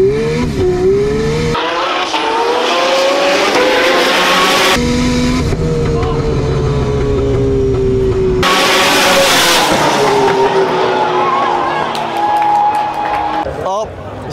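A 1700 HP Nissan R34 GTR drag racing a 2000 HP twin-turbo Lamborghini, with loud, continuous high-revving engines climbing through repeated gear shifts, close and sustained, with a crowd audible underneath.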